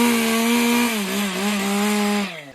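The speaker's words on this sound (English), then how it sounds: "have been listening to the sounds of chainsaws for the past week" A chainsaw carves wood in a Kelowna park with a steady, close, loud engine whine. The pitch dips slightly under load, then the saw winds down at the end.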